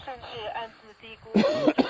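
A single sharp cough close by, preceded by a moment of quiet speech.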